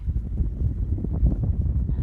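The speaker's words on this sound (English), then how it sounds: "and it's windy but not too cold" Gusty wind buffets the microphone on a blustery coast-to-coast cycle ride, a continuous low rumbling roar with uneven surges throughout, loud and close, with no talk.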